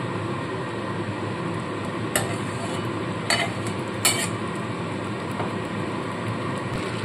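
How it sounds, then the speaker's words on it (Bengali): Chicken sautés with ginger and garlic in a pan for a coriander chicken dish, a steady broad sizzle running throughout, broken by three or four sharp scrapes and clinks of a spoon stirring. "তো এইবার আদা রসুন দেওয়ার পর খানিকক্ষণ চিকেনটাকে কষিয়ে নিতে হবে।"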